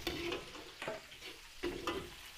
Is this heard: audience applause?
no